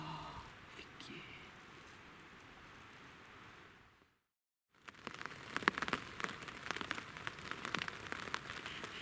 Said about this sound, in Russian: Ближе к утру зарядил промозглый дождь, который затянулся больше, чем на сутки.